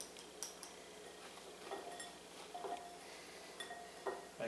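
Metal utensils clink faintly against a pan as fries seasoned with cayenne pepper are turned over, giving scattered light taps and scrapes at irregular intervals over a quiet kitchen background.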